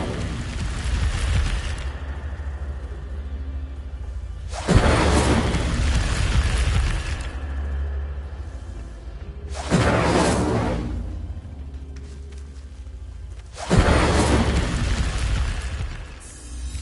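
Incendio fire spell cast in Hogwarts Legacy, three roaring bursts of flame several seconds apart, each swelling sharply then trailing off over a low steady game ambience.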